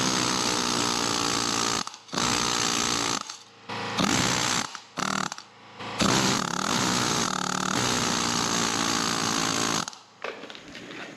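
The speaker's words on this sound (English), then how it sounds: "this needle gun will take these chunks off" Needle gun chatters against a rusty Toyota Tundra frame in loud, rapid hammering bursts that start and stop repeatedly, knocking off rust scale close to the listener.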